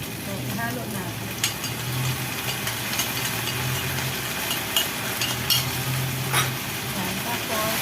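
Minced pork and eggplant sizzle in a pan while oyster sauce mixed with cornstarch and water is stirred in, giving continuous frying hiss with scraping and clinking from the utensil.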